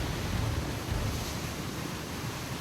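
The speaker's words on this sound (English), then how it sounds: "Whoa, that was a big wave that just came through here." Storm surge from Hurricane Katrina pours through a flooded building area, a steady broadband roar of rushing, churning water with deep low rumble and wind-like hiss. It is loud and continuous, with no talk.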